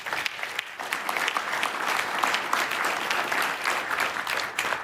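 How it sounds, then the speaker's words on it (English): An audience at an exhibit design awards ceremony during a construction trade expo breaks into sustained applause, a moderately loud wash of hand claps that swells slightly and then eases. "A round of applause for them both, please."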